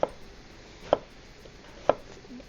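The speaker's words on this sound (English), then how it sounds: "We're going to chop it" Three slow, evenly spaced chops of a knife cutting through a head of cabbage onto a board, each a sharp, close, solid knock separated by quiet pauses, with no talking.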